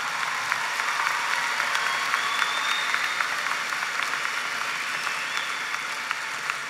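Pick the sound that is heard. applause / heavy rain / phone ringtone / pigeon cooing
applause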